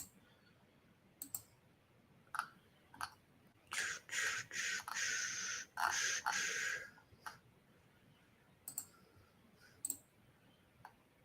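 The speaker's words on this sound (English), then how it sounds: "You guys hear that typing?" Sparse clicks and short bursts of keystrokes on a computer keyboard, faint and intermittent against a quiet background, with a denser run of typing in the middle.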